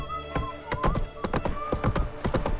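Roach the horse in The Witcher 3, hooves clip-clopping in a steady irregular rhythm alongside a drawn-out whinny, fairly close and moderately loud, with no voices.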